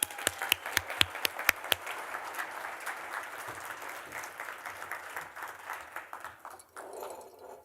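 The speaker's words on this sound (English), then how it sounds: "Applause for Ann and John." Audience applause for Ann and John at a live talk event, a burst of loud separate claps at the start settling into steady crowd clapping that fades toward the end, with no talking.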